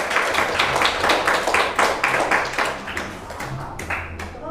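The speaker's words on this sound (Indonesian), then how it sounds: "beri tepuk tangan untuk penampilan terakhir" A small audience at a class presentation claps for the final performance, a dense run of hand claps in uneven bursts that stays fairly loud and near throughout.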